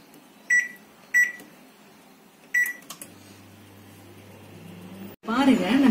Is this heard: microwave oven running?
yes